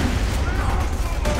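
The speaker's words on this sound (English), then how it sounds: "Haha, explosion! Haha, grenades!" Grenades go off in Borderlands 2 as a dense, continuous roar of blasts and gunfire filling the moment, loud and chaotic with a voice mixed in.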